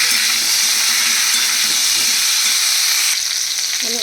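Potatoes fry in a little oil with turmeric and salt, producing a loud, dense, steady sizzle that drops off slightly in the final second; no one talks.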